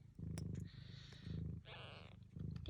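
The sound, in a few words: Sphynx mother cat purring while kittens feed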